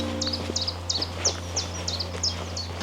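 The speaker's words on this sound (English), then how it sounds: "Just behind me I've heard a warbler every so often" A warbler calls from close by at Lunt Meadows, a rapid series of about eight short, high, evenly spaced chirps over a steady low hum.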